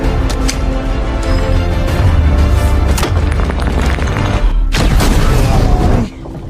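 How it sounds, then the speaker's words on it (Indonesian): Gunfire and a grenade blast in a Jason Statham action film, with several sharp booming bangs punctuating a dense, loud action soundtrack and a final blast before it cuts quieter; a voice speaks over part of it. "dengan mudah dikalahkan oleh Levon dengan satu kali tembakan serta granat"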